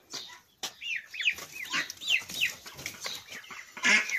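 Several chickens, a hen with chicks, cluck and chirp close by in quick, overlapping calls, with a louder squawk near the end.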